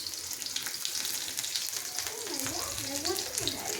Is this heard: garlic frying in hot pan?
yes